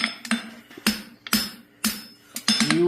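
A farrier's hammer strikes steel on an anvil in sharp, ringing blows, about six separate impacts spaced unevenly with quiet gaps between, close and clear.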